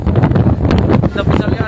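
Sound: strong wind in Mecca

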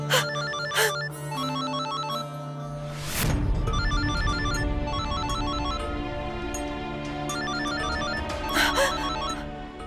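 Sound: telephone ringing

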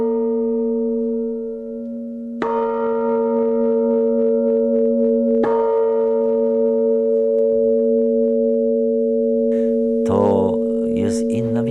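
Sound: electronic church bell ringing

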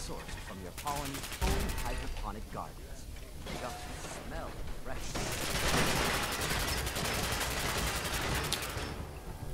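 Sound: gunfire from a gun in the video game Fallout 4

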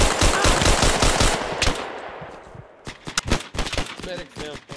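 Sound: machine gun suppressing fire in video game Hell Let Loose

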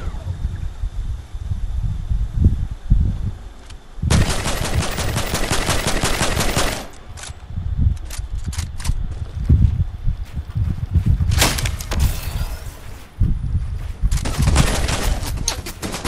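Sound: gunfire in the video game Fortnite

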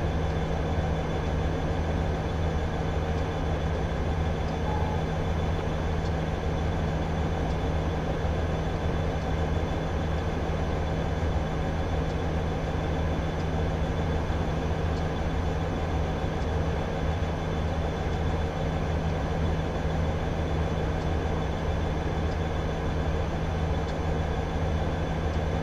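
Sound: long freight train passing in Train Simulator 2015 video game

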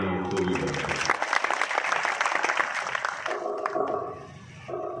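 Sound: applause

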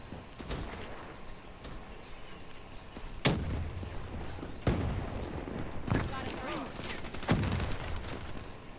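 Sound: LMG/SMG gunfire in video game Call of Duty Black Ops III

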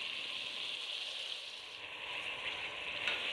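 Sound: washed mutton added to hot pan, sizzling

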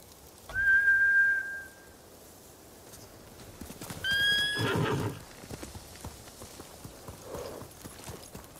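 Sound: samurai horses returning, neighing, from the video game Ghost of Tsushima

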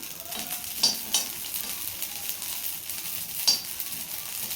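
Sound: rice grains popping while roasting in a pan

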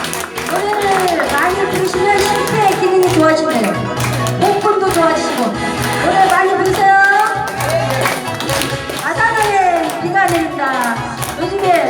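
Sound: audience applauding to welcome singer

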